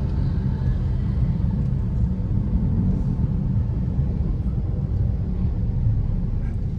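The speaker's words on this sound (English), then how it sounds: "there's a bridge up there, the cars are on the bridge up there" Cars drive across a bridge overhead in the Philippines, a continuous low rumble of traffic that stays steady and fairly loud throughout, with no one talking.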